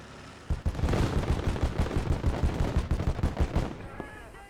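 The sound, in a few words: gunfire in the video game Call To Arms: Gates Of Hell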